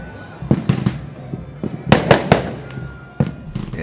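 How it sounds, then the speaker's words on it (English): New Year fireworks bursting over a beach hotel, a rapid irregular series of loud sharp bangs and crackles with echoing decay, some clustered close together, heard alone. "spectacular displays of fireworks lit and colored the sky"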